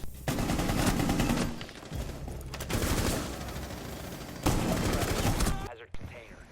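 Sustained UMP submachine gun bursts from a gunfight in Rainbow Six Siege, loud and close, several long volleys separated by short breaks, with game sounds mixed in.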